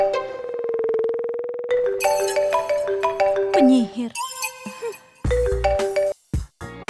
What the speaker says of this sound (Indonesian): Berdering.